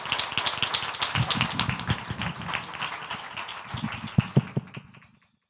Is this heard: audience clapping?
yes